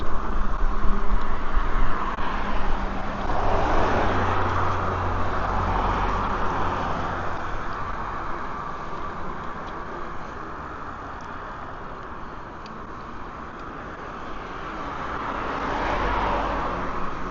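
Cars passing on a road next to a sidewalk, a broad traffic roar that swells as vehicles go by near the start and again near the end, with a quieter stretch between and no talk.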